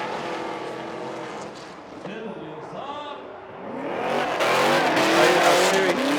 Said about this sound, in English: Now we finish up the run in the Chevrolet Camaro.